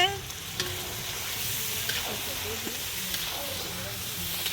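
Tomato and chili fry in a pot at an outdoor picnic, a soft steady sizzle with light stirring scrapes and occasional clinks, faint and continuous beneath distant voices.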